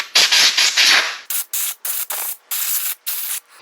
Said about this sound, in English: I got the air gun here. We're just going to blow some of the dirt off the outside of it